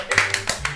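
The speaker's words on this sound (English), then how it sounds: "Clap." A few quick, crisp hand claps land close by in one short burst, with nothing else around them.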